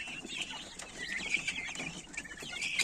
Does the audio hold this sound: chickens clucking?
yes